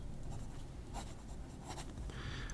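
Jinhao 59 fountain pen nib gliding across paper in faint, soft scratchy strokes, close up and quiet over a low background hiss, with no voices.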